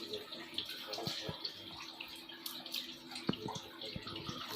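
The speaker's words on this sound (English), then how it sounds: "Now we have to flush or pass water again for at least 5 minutes for backward flushing." Water flushes through the carbon filter of a Livpure water purifier, a faint, low trickle and gurgle with scattered drips and small knocks, quiet and uneven.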